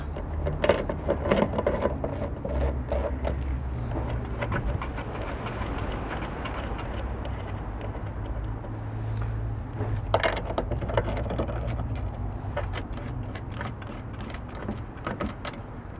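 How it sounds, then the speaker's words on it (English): A 1/4-inch drive wrench with a short extension and an 8mm socket works the bolts of a sail panel on a Mitsubishi 3000GT/GTO, giving close, irregular ratcheting clicks and metallic taps over a low background hum. "I've got a 1/4" drive wrench with a short extension on just to give me a little bit more access, and an 8mm socket piece on the end"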